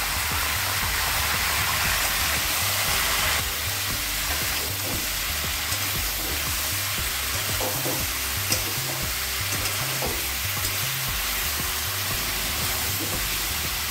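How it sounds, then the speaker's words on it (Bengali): Cauliflower pieces frying in oil with turmeric and salt, a dense, steady sizzle heard up close throughout, with light scraping and occasional clinks from stirring. "এই ফুলকপিগুলো হলুদ লবণের সঙ্গেও আমি 1 মিনিট কষিয়ে নিলাম।"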